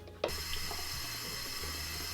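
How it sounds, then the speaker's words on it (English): A steady stream of cold running tap water, cooling boiled eggs, hisses continuously after a brief clunk at the start, close and even throughout. "Place the eggs in cold running water"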